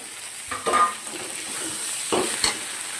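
Fish curry with tomato, salt and turmeric cooks in a pan, giving a soft steady sizzle. A few scraping stirs of a spoon sound close by, with no talking.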